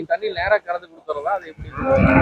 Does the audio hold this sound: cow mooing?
yes